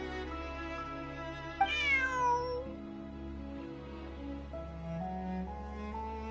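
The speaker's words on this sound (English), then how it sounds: "Bonnie is Pierre's cat." Bonnie, a cat in a video game, lets out a single clear meow near the two-second mark, rising then falling, over a steady game music backdrop.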